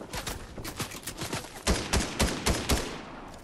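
Gunfire in the Fortnite battle royale game: a string of sharp shots, softer and scattered at first, then a louder run of separate heavy reports spaced about a quarter second apart.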